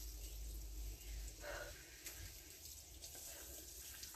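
Very cold water splashes and gushes steadily over a person for a few seconds, a continuous pouring wash close by with a brief brighter splash in the middle.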